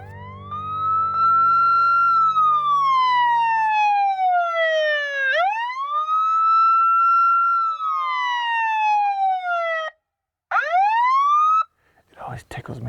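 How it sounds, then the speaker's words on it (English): A truck-mounted siren blares at full volume to call in coyotes during predator control, long rising and falling wails close and loud, cutting out briefly near the end, with a short idling rumble at the start. "plays this siren at full blast"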